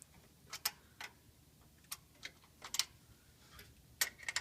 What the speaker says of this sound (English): next we're going to remove these bolts that mount the carburetor.